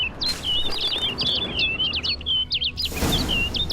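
A bird in the Witcher 3 game world chirps in a rapid string of bright, high twittering notes, close and clear, over a soft outdoor ambience that swells briefly near the end.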